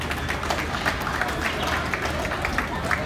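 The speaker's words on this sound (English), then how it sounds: "Let's give them a round of applause" Applause from the crowd at a Bible College NIT championship basketball game, Southeastern Baptist against Toccoa Falls, a steady moderate wash of clapping with some voices in the background.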